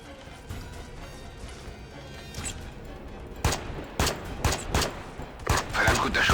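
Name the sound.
gunfire in a video game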